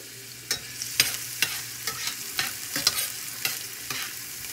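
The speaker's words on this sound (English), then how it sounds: "We're going to let this saute for about 2 or 3 minutes until it gets translucent." Onion sautéing with meat in a pan for a spaghetti dinner, with a steady sizzle and about a dozen sharp scraping stir strokes at a regular pace, close and moderately loud, no voices.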